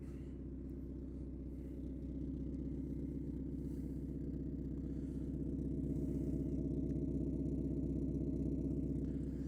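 A Mazda Miata with an ISR exhaust idles loudly and steadily, a deep, even burbling rumble heard close up that stays constant throughout with no voices.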